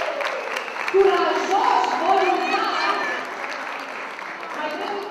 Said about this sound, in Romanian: Aș vrea în primul rând să încurajăm printr-o tură de aplauze serioase